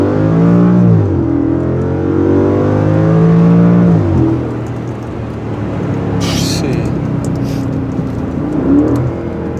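A car with a ZF Tiptronic automatic gearbox revs hard up close, its engine note rising and falling in several surges over a steady rumble, with brief background noise partway through.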